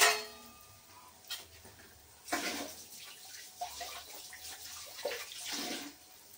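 Running tap water splashing as hands are rinsed beneath it, with a few louder bursts of splashing over a quiet background.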